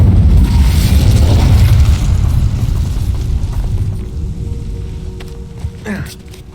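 An Incendio fire spell blast in the Hogwarts Legacy video game: a loud rumbling boom that fades over several seconds, ending with a short sharp pop.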